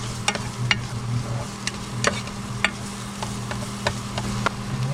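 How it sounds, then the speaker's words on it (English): Onions sizzle in a pan inside an RV kitchen, with a steady crackling hiss cut by sharp, brief spatters and clicks at irregular intervals, close up and without speech. "But we'll get these onions going."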